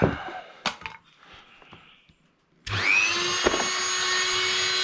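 A Dremel rotary tool cuts through a flex shaft during a TFL Zonda boat build, starting up after a few handling clicks with a rising whine, then holding a steady, close high-pitched drone.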